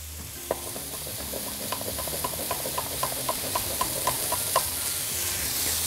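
Spring onion and red chili stir-fry in a hot wok, a steady sizzle broken by a regular series of sharp scraping clicks as the spatula pushes the food around.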